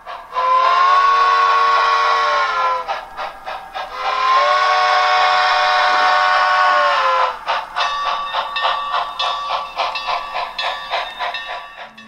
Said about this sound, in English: They're also out with Pacific-type steam locomotives this month, also featuring full sound effects.